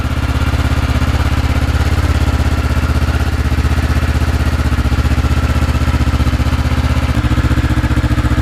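A motorcycle idles about three feet from a GoPro fitted with no wind sock, giving a loud, steady, throbbing engine rumble that runs unbroken from start to finish.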